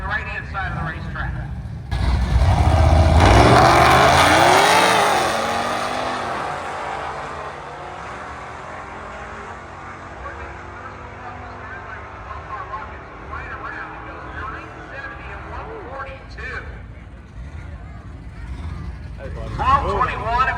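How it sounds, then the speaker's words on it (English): A Ford F-150 pickup truck and a white Dodge Challenger launch side by side at a drag strip, a loud engine roar that swells quickly and then fades down the track as an announcer talks over it. "Our next pair brings up the F-150 pickup truck and the white Dodge Challenger on the right-hand side of the racetrack."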